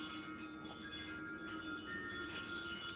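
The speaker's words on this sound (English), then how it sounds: "I can't hear myself over these wind chimes." Loud wind chimes ring and clink with sustained metallic tones that layer and shimmer steadily throughout, fairly close and unbroken by other sounds.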